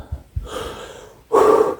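A person imitates a gasp for breath, a few soft puffs and a breathy intake, then a loud, long, strained inhaling gasp near the mic.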